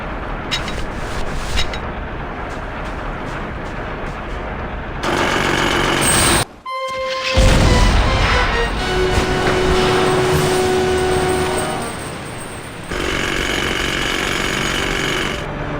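A chisel hammering rock in the video game Grim Fandango gives loud, dense, rapid jackhammer-like pounding, stopping briefly around the middle and then resuming with a droning mechanical whine.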